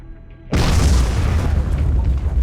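An artillery shell explodes in the video game Miner's Mettle, a sudden loud boom after a quiet moment, followed by a heavy rumbling roar that sustains to the end.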